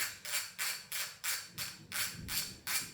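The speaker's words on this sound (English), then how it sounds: "Getting the side bolts taken out on this side." A ratchet clicks in steady bursts, about eight strokes in three seconds, as side bolts come out of the bottom end of an LS (LY5) V8 engine. The clicks are close, crisp and alone.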